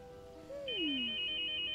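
A phone ringtone in the video game Starshine Legacy: a gliding tone falls, then a steady high electronic ring holds on clearly and fairly loud, with no talk over it.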